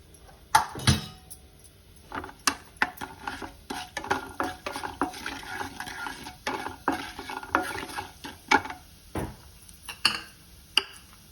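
Mustard seeds, cumin and urad dal sizzle and crackle in hot oil in a pan for a Telugu drumstick-leaf dal tempering, with frequent sharp pops and stirring clatter close by, and no talk.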